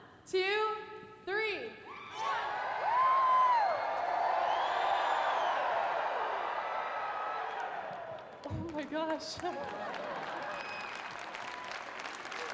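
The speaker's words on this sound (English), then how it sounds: "everyone's going to stand up, and we're all going to yell all the way across the gym" A large gym crowd at a Washington volleyball NCAA championship celebration erupts in loud, sustained yelling and cheering that fills the hall for several seconds, then fades into applause and scattered voices.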